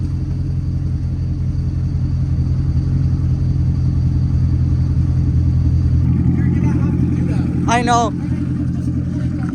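A Corvette engine under rebuild, with a smoke problem, idles with a heavy, steady low rumble close by for the whole stretch. A person speaks briefly over it near the end.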